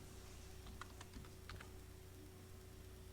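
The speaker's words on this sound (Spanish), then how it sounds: "Entonces partiré de escribir aquí el nombre del programa." Quiet typing on a computer keyboard as a program name is entered, a short burst of a dozen or so soft key clicks in the first half, then only faint room hum.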